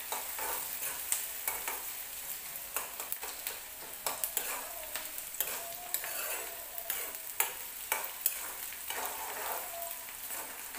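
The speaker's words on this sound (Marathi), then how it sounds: "कांदा व्यवस्थित भाजून घ्यायचा आपल्याला, थोडा पण कच्चा राहू द्यायचा नाही" Chopped onion frying in a pan for a chicken dish, a steady soft sizzle broken by frequent scraping and tapping as it is stirred, fairly close and moderate in level, with no voices.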